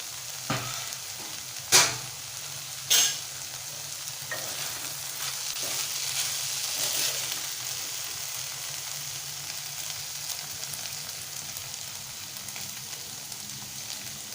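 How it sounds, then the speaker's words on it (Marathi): Okra and tomato bhaji simmering in a pan, a steady soft sizzle with a few sharp utensil clicks early on, fairly faint throughout. "आता पुन्हा याच्यावरती झाकण ठेवून टोमॅटो गळेपर्यंत आपण शिजवून घेऊया"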